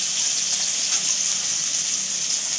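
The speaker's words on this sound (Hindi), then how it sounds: "मैंने कढ़ाई में बिल्कुल हल्की सी तेल रखे हैं। इसमें हम डाल देंगे प्याज" Onion, ginger and garlic fry in a little oil in a wok, giving a steady, close, bright sizzle with no talk.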